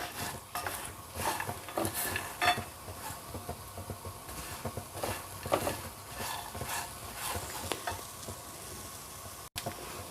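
Granola mixture is stirred in a pan on a low flame, with a steady soft sizzle and repeated scraping strokes of a spoon against the pan, close and fairly quiet, with no talking.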